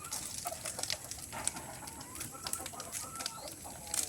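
Chickens cluck softly and intermittently around a backyard chicken house, a few scattered calls over a faint outdoor background.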